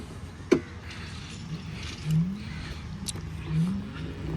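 A Luyuan MYC electric scooter is ridden on the road, giving a low steady rumble of wind and road noise with a sharp knock near the start and faint rising motor whines.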